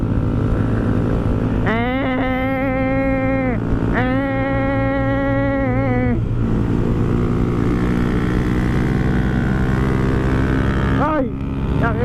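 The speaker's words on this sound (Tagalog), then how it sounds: "Boss, ang ingay naman ng motor nyo" Loud motorcycle engine on a squad ride with a Rusi R3, held at a steady roar the whole time with revving pitch sweeps and gear shifts, and voices talking over it.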